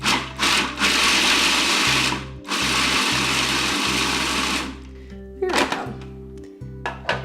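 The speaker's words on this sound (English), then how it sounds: "you can just kind of pulse the food processor until the nuts are broken down into small pieces" Food processor pulsing walnuts into coarse pieces: several loud motor bursts of one to two seconds each, separated by short stops, with rattling and clatter as the blade chops the nuts, then quieter knocks at the end.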